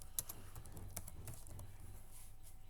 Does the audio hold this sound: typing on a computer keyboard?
yes